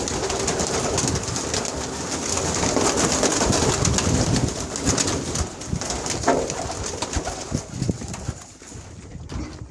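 Pigeons cooing inside a coop where birds sit on eggs, soft layered coos and wing shuffles continuing close by throughout, with occasional clattering footsteps and rustle.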